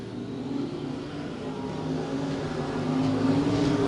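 USRA American Racer stock cars racing at I-35 Speedway, a dense roar of engines heard from trackside that builds steadily and holds as the pack circles, with no talk over it.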